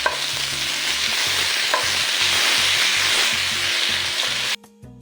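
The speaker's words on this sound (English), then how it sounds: "I stir them well to combine." Tomatoes and eggplant cooking in a pot while being stirred, a loud continuous sizzle with rhythmic scraping strokes of the spoon, ending abruptly.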